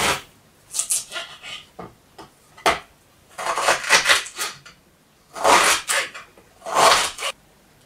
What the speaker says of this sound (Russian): Имбирь нарезаем на небольшие кусочки.